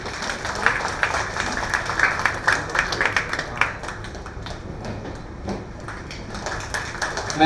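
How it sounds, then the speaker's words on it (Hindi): A festival audience at Jharkhand Mahotsav claps, brisk and loud at first and then thinning into scattered, fading claps, heard in a reverberant hall. "ताली बजा दें आप लोग।"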